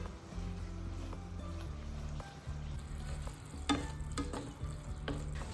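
Spice masala mixed with yogurt frying in a pan for an egg and potato curry, with a soft sizzle and repeated scraping strokes of a spoon across the pan, faint and close.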